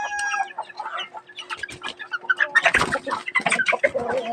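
Chickens clucking close by in a busy, uneven chorus of short clucks and calls, several birds overlapping, with no talking.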